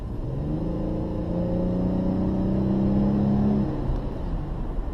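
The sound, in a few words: 2005 Chrysler 300 car accelerating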